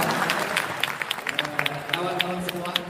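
An audience claps through a student gathering, a dense round of applause with sharp individual claps popping out over a faint murmur of voices.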